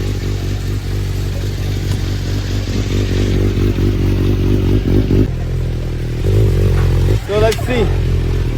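Suzuki motorcycle with 31 miles on it, engine running steadily on a dyno in mode 1, with loud droning harmonics, a dip near five seconds, then a throttle rise and sweeping rev near the end.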